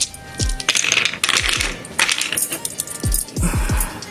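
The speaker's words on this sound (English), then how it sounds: "I'm gonna roll these dice" A handful of dice are rolled, clattering in several sharp bursts of hard clicks and rattles that bounce and settle, loud and close.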